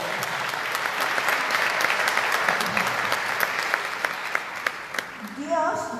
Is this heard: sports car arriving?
no